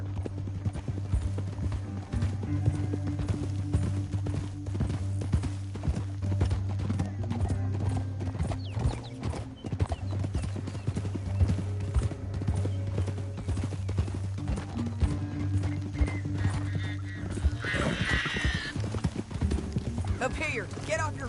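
Horses in Red Dead Redemption 2 gallop steadily with rapid clip-clop hoofbeats under a low droning score, joined near the end by a high neigh, while characters talk over the riding.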